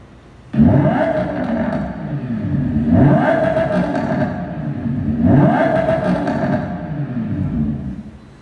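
Lamborghini Huracan EVO with titanium intake valves and a super sport exhaust revs three times, each loud swell rising and easing back over a steady idle, close and without talk.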